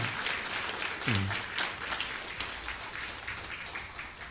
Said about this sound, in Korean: 우리 박수로 하나님께 한번 감사드리도록 하겠습니다.